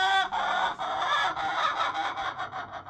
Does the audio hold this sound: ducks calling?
yes